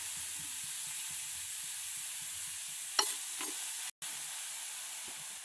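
Soft steady sizzle of filling frying in a pan for egg puffs, quiet and continuous with a couple of brief stirring scrapes partway through.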